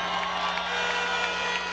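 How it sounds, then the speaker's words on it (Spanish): A crowd at a 2013 political rally in El Valle, Caracas, applauds and cheers as a continuous, somewhat distant roar of massed voices and clapping over a low electrical hum. "Jacqueline Faría, un aplauso para ella"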